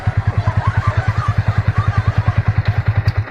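A motorcycle engine idles close by, its low exhaust thumping in a rapid, steady chug with no pauses.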